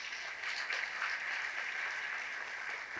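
An audience at a college disability-inclusion celebration event claps steadily in a hall, a dense, even wash of applause lasting a few seconds without speech.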